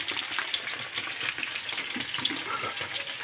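Stuffed intestines (mumbar) frying in a pan give off a steady, moderately quiet sizzle and crackle with scattered small pops throughout.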